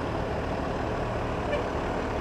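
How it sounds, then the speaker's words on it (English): Keysville fire department ladder truck rolling past in a small-town parade, a low steady engine rumble with broad road noise, heard from the roadside at moderate distance without a clear rise or fade. "This one here is from Keysville, the Keysville ladder truck."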